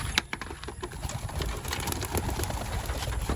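Racing pigeons are released on a training flight in Candelaria: a brief burst of fluttering wing claps and soft cooing sounds, close by over steady outdoor noise, with no talking.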